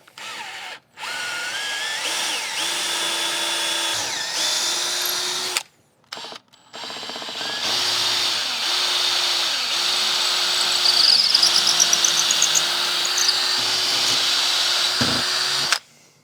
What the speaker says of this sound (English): they call for a 3/16 drill bit for wood